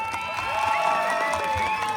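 An audience at a carnival jaripeo in San Juan Mixtepec, Oaxaca, applauds the couples, a crowd clapping and cheering under music with sustained tones, moderately loud and continuous.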